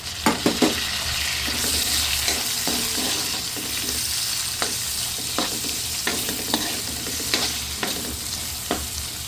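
Shrimp fry in a pan for pancit bihon canton while being stirred, a steady loud sizzle punctuated by irregular scraping and clacking of a utensil against the pan.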